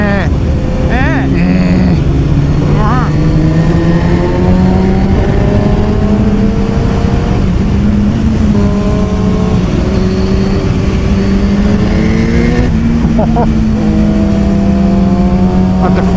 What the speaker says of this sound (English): all I can hear is your bike going womp, wow, womp, womp, wow